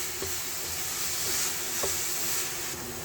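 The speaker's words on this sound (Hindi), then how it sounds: "बस 1 मिनट हम इसे और भून लेते हैं" Chocolate coconut laddu mixture, nearly dry, roasting in a pan over a gas flame, giving a soft continuous sizzle and hiss with a few light scraping stir knocks, close and steady.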